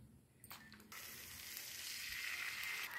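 Oil poured into a hot pan for sweet dosa, a soft pour followed by a steady, rising sizzle that holds at a moderate level, close by and with no talking.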